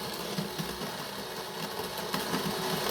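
A De'Longhi Dinamica Plus bean-to-cup espresso machine brews espresso with a steady, close pump buzz and hum that holds evenly throughout, with slight rattling vibration.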